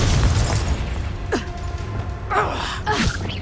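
In Hogwarts Legacy, Confringo fire spells explode in bursts: a heavy boom at the start, then sharper whooshing blasts with breathy gasps around them, close and loud.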